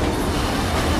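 A train runs at Sector 5 station in Final Fantasy VII Remake, a steady close rumble with rolling wheel clatter that fills the short moment with no pause.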